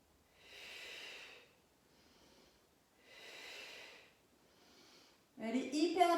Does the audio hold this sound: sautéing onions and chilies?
no